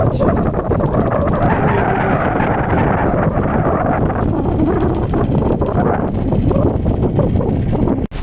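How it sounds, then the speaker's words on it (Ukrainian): Strong wind roars continuously against the microphone on a frozen lake during ice fishing, a loud, dense rumble that barely lets up, with a brief dip right at the end. "піднявся сильний вітер"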